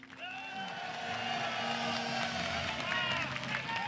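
Applause for team A during a team game, a steady wash of clapping and crowd noise lasting throughout, fairly loud with voices mixed in.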